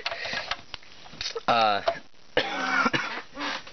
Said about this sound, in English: Sorry, I still have that cough.